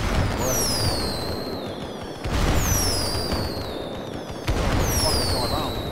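Fireworks bursting in a GTA roleplay session, with rising whistles and crackling bangs repeating about three times, loud against a noisy background.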